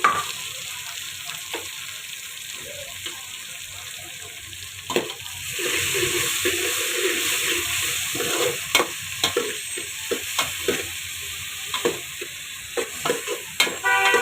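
Onions and tomato sizzle in hot oil in a pan, with a steady frying hiss and repeated clicks and scrapes of a spoon stirring, the stirring becoming busier partway through.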